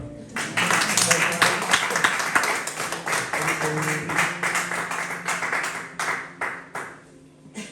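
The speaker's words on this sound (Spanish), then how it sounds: "Vamos a dar un aplauso." A church congregation breaks into a round of applause, sustained clapping from many hands with voices mixed in, fading toward the end.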